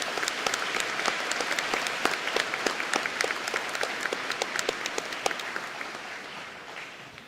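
A crowd applauds staff and families at a high school graduation ceremony, a full, steady clatter of many hands with crisp individual claps on top, gradually tapering off toward the end with no speech.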